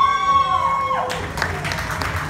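Audience at the Miss Chiquitita 2017 pageant applauds a contestant from Guatemala: a sustained tone fades, then steady, close clapping from a crowd fills the rest.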